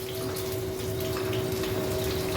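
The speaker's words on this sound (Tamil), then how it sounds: "இந்த கப்பையும் அலம்பி இந்த தண்ணியும் அதில் விட்டுருங்க" Water is poured steadily from a cup into a cooking pot of white pumpkin kootu, a continuous close gushing stream with no pause or voices.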